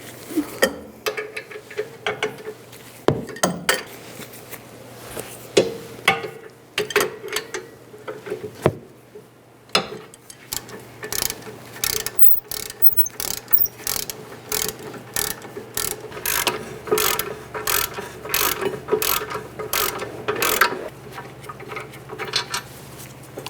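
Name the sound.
ratchet with 21mm socket removing brake caliper bolts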